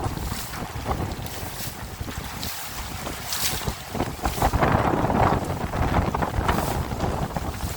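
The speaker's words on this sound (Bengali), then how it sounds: "প্রচন্ড পানি এবং প্রচন্ড বাতাসে খুবই ভয়াবহ একটি অবস্থা" Strong gusts from Cyclone Remal batter the microphone over a flooded road in Pirojpur, producing continuous heavy roaring wind noise that surges louder in the second half, with no voices.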